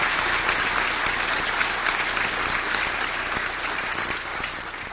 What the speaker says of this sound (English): I'd like everybody to give a round of applause for the speakers and for the helpers